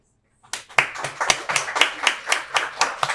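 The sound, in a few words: applause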